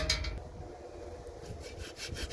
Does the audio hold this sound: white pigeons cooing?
no